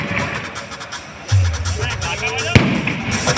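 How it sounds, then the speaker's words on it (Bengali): Fireworks burst during an outdoor laser show and fireworks display, with a rumbling blast followed by a sharp, loud bang near the end over crowd noise and talk. "লেজার শো তার সাথে আতশবাজি প্রদর্শন সহযোগিতায়"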